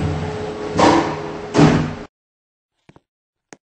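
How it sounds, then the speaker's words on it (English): Elevator sliding doors open in Roblox on a Luxiar lift with Thames Valley controls, two swelling whooshes over a running hum that then cuts to silence. A few small clicks follow. "Doors opening."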